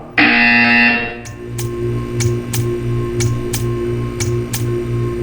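A buzzer in the Portal 2 video game sounds as a loud, sustained tone for about a second, then gives way to a steady hum with a regular series of sharp ticks.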